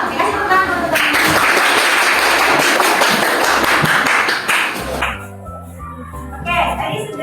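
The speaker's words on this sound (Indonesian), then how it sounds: "kasih tepuk tangan untuk teman-teman" Classroom of students clapping for their classmates, a dense burst of applause with some voices mixed in, fading out after about five seconds into quieter room sounds.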